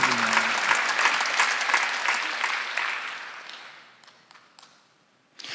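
A church congregation at a Sunday worship service claps together in a loud burst of applause that gradually fades away to near silence.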